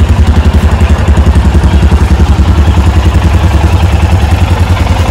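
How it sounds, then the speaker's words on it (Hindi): A Royal Enfield Himalayan motorcycle engine idles steadily up close, a loud, even low thumping pulse running throughout with no talk over it. "बाइक स्टार्ट हो गई अपनी।"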